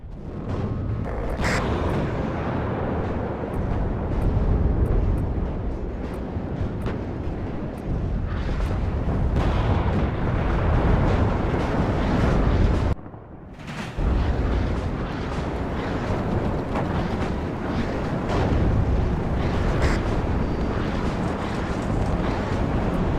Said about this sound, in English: Oh, the artillery is landing perfectly.